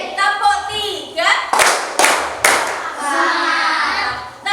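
Schoolchildren in a classroom chant together and punctuate the rhythm with a few loud, sharp group hand claps, close by, with sung voices before and after the claps.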